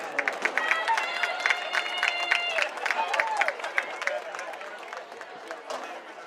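Applause for high school seniors and their parents at a Greenbrier Panthers versus Little Rock Christian Warriors game, with loud, sharp hand claps over crowd chatter and a held tone, fading toward the end.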